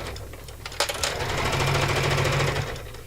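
Embroidery sewing machine stitching, a fast steady mechanical rattle that starts with a few quick knocks, then runs continuously and close for a few seconds.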